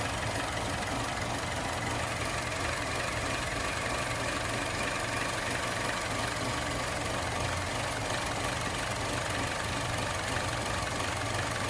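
A turbocharged engine idles steadily with a low, even rumble and faint mechanical knock, close and continuous throughout with no talking.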